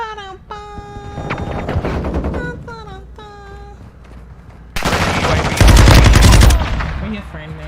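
Gunfire in the video game Modern Warfare 2: rapid automatic bursts that build into a loud, dense volley near the end, mixed with in-game tones and effects.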